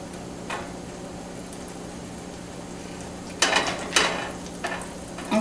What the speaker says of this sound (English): the butter and the oil are starting to heat up and bubble